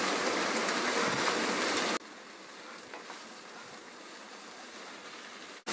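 Okra and onion fry over high heat in a pan, giving a loud steady sizzle that suddenly drops to a quieter, even crackle partway through.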